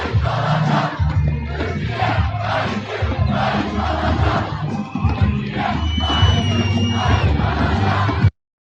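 Massed voices of a big Turkish election rally crowd chant and cheer in rolling waves, loud and near, with shouts and whistles rising above the din before it cuts off abruptly.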